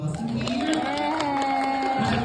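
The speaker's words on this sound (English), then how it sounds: "Let's give a big round of applause." Crowd applauding and cheering for a player at a casual group event, steady clapping and voices filling the clip throughout, fairly loud and close.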